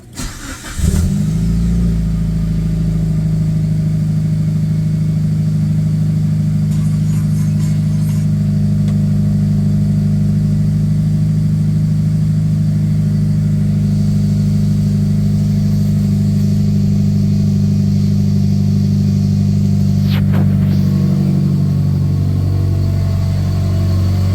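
Mitsubishi Lancer Evolution IX engine cranks briefly, catches and settles into a steady, loud idle with a strong low hum, running on alone for over twenty seconds during a 30k service.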